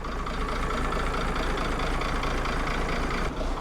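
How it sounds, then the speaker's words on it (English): A tractor engine idles and chugs steadily at close range, a continuous rough rumble with no voices. "Oh, I better get back on the tractor."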